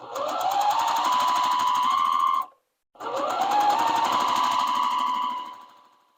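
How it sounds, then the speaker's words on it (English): A sewing machine stitches fabric for a quilt block in two steady runs, a rapid even whirring hum broken by a short pause, then winding down to a stop. "we're just going to start sewing"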